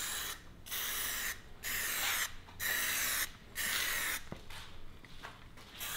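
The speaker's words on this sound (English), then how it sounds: "basically you're picking up the same spraying technique with the clear as you were on the last coat of gloss black" Spray gun laying heavy clear coat over a gloss black finish in full passes: several long bursts of steady hissing spray, each a second or so, separated by short pauses, close and fairly loud with no talk.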